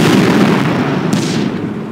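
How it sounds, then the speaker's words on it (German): Enemy fire on tanks in the video game Blitzkrieg 2: a dense, continuous rumble of battle noise with low booming and one sharper burst midway, loud and sustained throughout with no talk. "Wir stehen unter feindlichem Beschuss."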